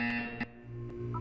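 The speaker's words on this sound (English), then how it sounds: "When you hear the buzzer, look down at the floor." A synthetic electronic buzzer from the video game Portal 2 sounds in short bursts with brief tonal blips, slightly processed and distorted, alone without talk.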